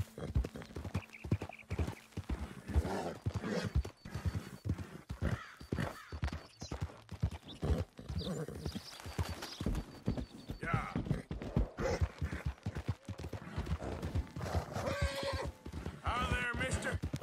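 Horse hooves clip-clop steadily while a horse whinnies now and then in Red Dead Redemption 2, mixed with game sounds and occasional speech in the background.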